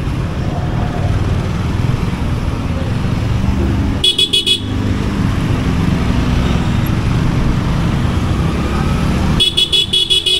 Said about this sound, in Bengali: এই রোডের সবাই ব্যবহার করে, তাই এত জ্যাম লাগা থাকে